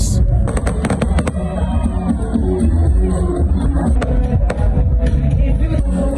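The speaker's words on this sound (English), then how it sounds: "Loud music and fireworks from the Polo Beach Club fill the air and are clearly audible even within the hotel premises." Fireworks crackle and pop from a party at the Polo Beach Club, heard about 100 meters away at a hotel, a steady barrage of sharp bangs over booming music, crowd noise and some talk.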